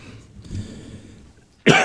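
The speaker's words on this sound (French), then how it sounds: "vous allez réaliser que j'ai une petite toux ce soir" A single sharp, loud cough bursts out close by near the end, after a stretch of quiet room murmur in a town council meeting hall.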